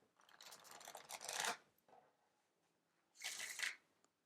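An old Rider-Waite-Smith tarot deck being shuffled in two bursts, a long riffling rush followed after a pause by a shorter one, close and quiet with no talking.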